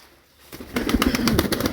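Pigeons coo and shuffle close by, their soft murmuring calls repeating in a steady uneven rhythm after a brief quiet start, with no voices over them.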